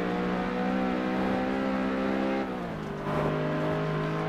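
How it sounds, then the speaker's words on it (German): A loud car engine in the racing video game Test Drive Unlimited 2, a steady close droning roar with strong harmonics that dips in pitch briefly before settling again. "Oh, der Motor ist verdammt laut."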